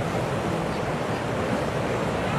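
Big river waves on the New River make a steady, dense rushing roar of churning whitewater, loud and continuous throughout with no talking.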